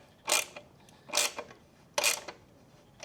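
Ratchet tightening the main bolt on a NiceCNC skid plate fitted to a KTM 690 Enduro R, heard as four short, fairly loud clicking bursts spaced about a second apart, with no talk.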